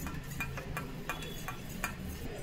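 Eggs for an egg dosa are beaten in a bowl, a quick series of light clicking strokes in an irregular rhythm, close and fairly faint.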